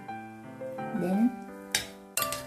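Clinks and soft scraping of a utensil against a bowl as minced meat, carrots, onions and an egg are mixed for Italian meatballs, heard close over a faint steady tonal background, with a couple of sharper knocks near the end.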